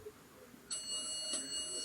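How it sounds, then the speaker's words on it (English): A 1983 Westinghouse traction elevator's arrival chime sounds once, a bright ringing tone that starts sharply and sustains with a brief second strike, fairly faint inside a quiet hallway. "Listen to that dinner bell."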